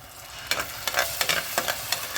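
Onion sizzles steadily in a frying pan while homemade tomato paste is added for beetroot borscht, with repeated scraping stirs of a spoon breaking in at an uneven rhythm.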